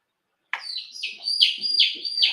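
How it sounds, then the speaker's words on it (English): A bird chirps in a quick run of high, bright calls, close and clear against near silence. "There is a very needy bird in there."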